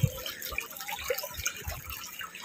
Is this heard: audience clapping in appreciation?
no